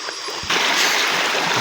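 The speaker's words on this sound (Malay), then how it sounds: "Kita dengar dia punya bunyi air pun" River stream water flowing and splashing close by, a steady bright rush that grows louder after a brief quieter start.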